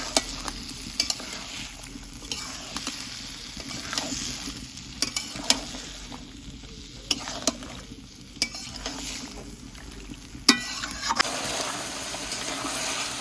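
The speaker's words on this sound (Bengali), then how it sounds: "মাংসটাকে এবার সুন্দর করে একটু নাড়িয়ে দেবো" Duck meat is stirred in a frying pan, a steady sizzle under repeated scraping strokes and occasional sharp utensil taps against the pan, with no voices.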